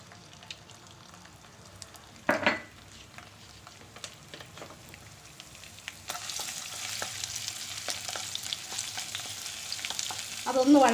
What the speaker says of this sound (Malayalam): അതിലേക്ക് നമുക്ക് ഇഞ്ചി വെളുത്തുള്ളി പേസ്റ്റ് ഇട്ട് കൊടുക്കാം